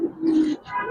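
Pigeons of fancy colored breeds such as giribaz, one with bright red markings, give a close, clear low coo that swells and fades over a second, with a second softer call following.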